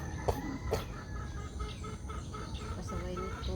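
Nearby chickens cluck in short, scattered bursts over a low background hum.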